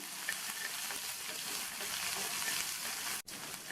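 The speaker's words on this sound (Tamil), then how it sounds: "இந்த வெங்காயத்தை லேசாக வதக்கி விட்டால் போதும்" Finely chopped onions sauté in hot oil, a steady soft sizzle with faint stirring, briefly cut off near the end.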